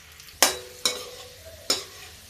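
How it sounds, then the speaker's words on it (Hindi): Potatoes fried in hot oil for a rajma nimona dish, heard as three sharp sizzling bursts roughly a second apart, each fading quickly into a low steady crackle with no talking. "और इसको इस तेल में फ्राई करें, गोल्डन ब्राउन होने तक इसको हम फ्राई करें"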